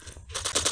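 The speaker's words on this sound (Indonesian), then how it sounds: "Aku mendengar suara dentuman tembak" Gunfire in a Call of Duty battle royale match, a short burst of rapid shots close by following a brief quieter moment.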